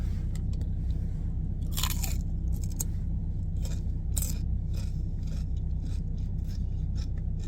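Close, crisp crunching of small cucumbers in a Korean-style spicy cucumber salad being bitten and chewed, with several sharp bites spread through the clip over a steady low background hum.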